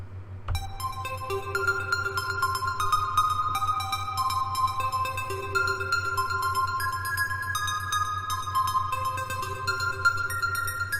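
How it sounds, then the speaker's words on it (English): High-pitched synthesized notes in a space game's music composition, a bright electronic melody of sustained tones over a steady low drone, loud and continuous with no talking. "Now that I've made all of my headphone listeners deaf with all those high-pitched notes"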